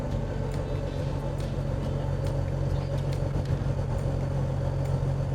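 A Dodge Power Wagon truck cruises along a road at about 52 mph, its engine and drivetrain giving a steady, loud low rumble with road noise that persists without letup from the cab.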